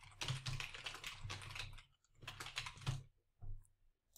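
Fast keystrokes on a computer keyboard while a Gmail email signature is typed, coming in dense bursts with short pauses between them, close and clear, with no voices.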